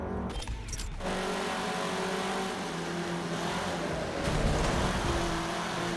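An off-road buggy in the racing game Forza Motorsport 7 spins out, its engine droning steadily under loud tire and gravel noise, with a brief rise in intensity near the end.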